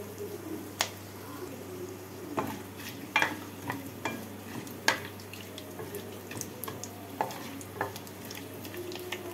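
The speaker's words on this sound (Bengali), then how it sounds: "তেল আর ঘিটা গরম হয়ে গেছে। এর মধ্যে ফোড়নে দিয়ে দিচ্ছি 2টো তেজপাতা, কয়েকটা লবঙ্গ, কয়েকটা এলাচ, 3 টুকরো দারচিনি।" Whole spices, bay leaves, cloves, cardamom and cinnamon, frying in hot oil and ghee for a Bengali paneer pulao, a quiet steady sizzle broken by sharp intermittent clinks and stirring taps.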